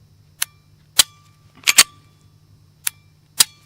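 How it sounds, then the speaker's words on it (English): An unloaded CZ P-10 C striker-fired pistol dry-fires and resets: six crisp, close metallic clicks in an irregular rhythm, two coming in a quick pair, over a faint low hum. "this is the best trigger pull I've ever felt on a striker fired pistol"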